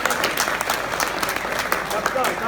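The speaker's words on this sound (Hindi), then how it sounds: "इनके लिए एक बार तालियां।" An audience at a mushaira poetry gathering in a school breaks into sustained applause, a thick, even crowd of clapping with a voice faintly running beneath it.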